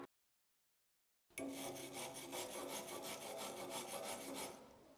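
A wire brush scrubs slag off a fresh weld in a school welding shop, a steady run of quick rasping strokes that starts abruptly after a moment of silence and continues close and loud with no talk.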